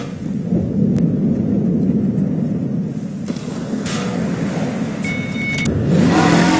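A car engine in Garry's Mod runs steadily with a low droning rumble, rising slightly in pitch and loudness toward the end as it revs, alone with no talk.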